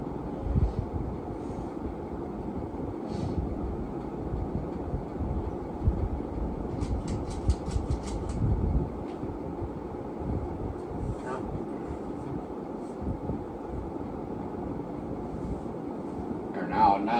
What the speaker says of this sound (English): I don't run this fan very often, so the SQ is definitely in good shape.